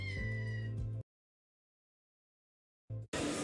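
A small kitten gives a clear, close, plaintive meow in an advertisement, followed by silence and then a short second cry and a burst of noise.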